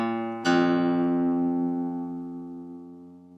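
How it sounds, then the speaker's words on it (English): One open guitar string is plucked during tuning and left ringing, a clear sustained tone that slowly decays over about three seconds in a quiet room. "Let me just show you how I tune my guitar."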